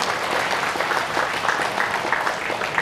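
Monks applaud in a dense, steady clapping that holds at an even level throughout, with many hands at a moderate distance and no voices.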